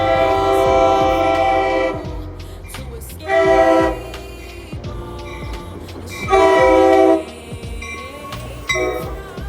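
An old-style train rolls past on the tracks, loud and close, its horn blaring in several long blasts over the steady rumble and clatter of the cars.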